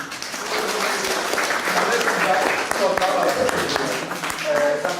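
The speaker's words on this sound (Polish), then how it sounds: "Brawa dla naszych gości." A crowd at a travel journalists' association meeting applauding, a warm wash of clapping that swells and continues steadily, with faint voices mixed in.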